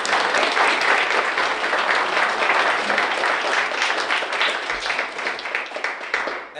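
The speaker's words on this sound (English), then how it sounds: "So please give a round of applause." Sustained round of applause from a debate championship grand final audience, steady dense clapping throughout, fairly loud and even with no talk over it.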